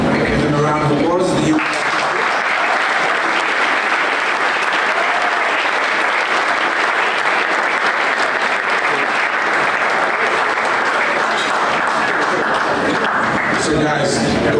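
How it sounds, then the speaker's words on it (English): Sustained loud applause from a large crowd at a football club brand unveiling, filling the whole stretch after a brief moment of talk at the start, then fading as speech returns. "Give them a round of applause."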